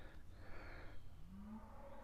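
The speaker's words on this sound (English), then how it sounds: "We got cows in the background" Cattle moo faintly in the distance at an outdoor park, a low drawn-out lowing under quiet ambient background.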